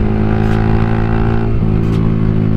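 A Yamaha R15 motorcycle engine revs up, its tone climbing in clear harmonic steps and then dropping as the gear changes, loud and close with no talking.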